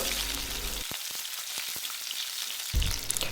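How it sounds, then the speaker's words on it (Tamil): Chopped shallots sauté with mustard seeds and curry leaves in a hot pan for a tomato curry, giving a steady close sizzle with a few brief clicks and stirring knocks, no talking. "கட் பண்ணி போட்டுட்டு இது கொஞ்சம் நேரம் வதக்கலாம்"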